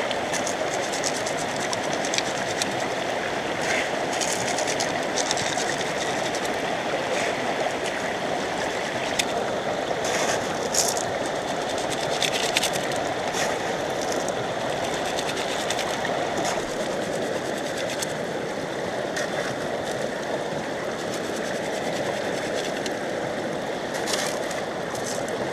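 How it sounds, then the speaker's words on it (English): Water rushing steadily through a gold sluice loaded with pay dirt at a UK prospecting site, a constant close-up wash of flowing water and gravel with no talking throughout. "We've got the sluice set up, got the pay dirt, let's run the sluice."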